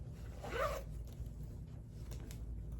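The zipper on the back pocket of a Coach Outlet bag is pulled in one quick, close, crisp run, then the room goes quiet.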